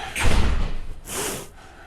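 An exterior door on deck 7 of the Enchanted Princess cruise ship swings open with a heavy thud and a rush of air and wind, followed by a second softer whoosh, with no talking.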